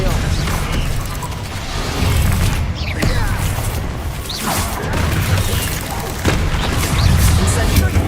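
Spell combat in the Hogwarts Legacy video game: fire, blast and disarming spells land in a dense, continuous barrage of booming explosions and crashes with whooshing swishes, loud and near, with a voice casting spells throughout.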